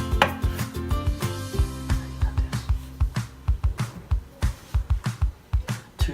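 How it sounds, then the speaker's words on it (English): A knife slicing zucchini on a cutting board in a home kitchen, a quick run of close, crisp chopping knocks in a fairly regular rhythm, with no talking. "We're going to slice up the zucchini"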